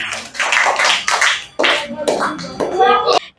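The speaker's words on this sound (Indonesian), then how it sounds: "Oke, tepuk tangan untuk diri kalian sendiri." Schoolchildren in a classroom clap for themselves, with bursts of hand claps mixed with loud, close children's chatter and laughter.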